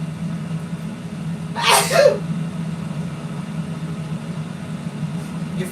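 A single sharp sneeze bursts out about two seconds in, close and loud, over a steady low electrical hum in an otherwise quiet indoor room.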